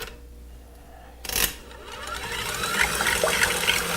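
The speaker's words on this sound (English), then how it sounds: "the first thing we're going to do is get these egg whites going. We're just going to whisk them" Egg whites being whisked until fluffy for chocolate soufflés, a steady whirring, watery beating that starts after a brief burst and runs close and continuous to the end, with no talk.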